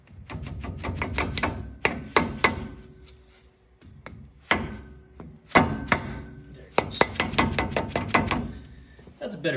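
A hammer smacks a wheel bearing spacer into place on a 1975-79 Nova X-body. Sharp metallic blows come in quick bursts of several strikes with short pauses between them, close and loud, while someone talks briefly.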